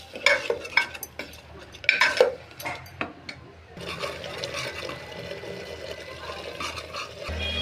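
A spoon stirs and scrapes ground masala paste as it sautés in a pan for a fresh green chickpea curry, with irregular clinks and wet scraping strokes followed by a steady low sizzle.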